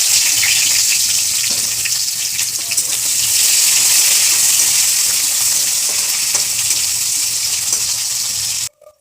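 Chopped onions hit hot oil in a pan while cooking a bottle gourd and dried fish dish, giving a loud, steady sizzle for several seconds that cuts off abruptly at the end.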